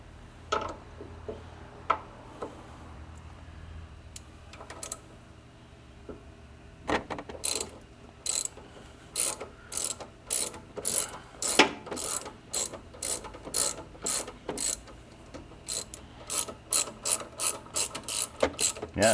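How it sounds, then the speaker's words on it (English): A tap chases a damaged thread on an HP pump. Faint handling early on gives way to a steady run of close, sharp ratchet clicks that grow more regular and louder toward the end. "We may have to chase that one with the tap."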